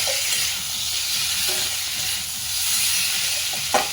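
Potatoes sautéing in a spice paste of onion, garlic and ginger in a home kitchen pan, a steady close sizzle and frying hiss with occasional stirring scrapes and a brief clink near the end.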